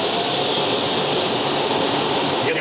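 A lathe takes a facing cut on a steam engine part for vintage machinery, producing a continuous loud, broadband machining whir that holds steady through the short stretch with no talking.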